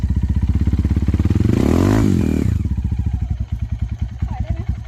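A motorcycle on a muddy off-road course accelerates hard with the throttle opened wide, its engine rising to a loud roar around two seconds and then dropping back to a rapid, throbbing chug.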